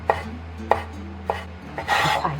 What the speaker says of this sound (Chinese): 然后我们这样子再给它翻过来，然后这一面我们就给它切条了哈